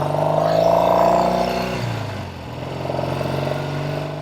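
A red 1968 Triumph Bonneville motorcycle with loud aftermarket pipes runs close by, its engine rumbling steadily and rising briefly before settling back to a lower throb, with no talking.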